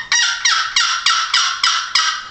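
A run of about seven raspy, evenly spaced yelps from a turkey box call, loud and close, each note dropping slightly in pitch.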